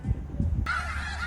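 A flock of birds at Green Lake in Seattle honks faintly in the far distance, a thin layered call that starts after a few low thumps and rumbles up close.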